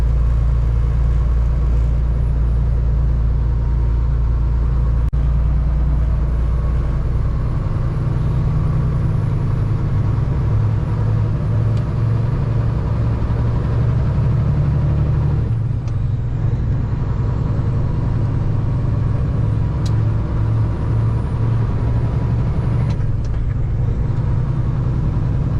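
A truck engine drones loud and steady while driving in fifth gear low on a highway between New Jersey and New York, a heavy, continuous low rumble with road noise and small shifts in tone throughout.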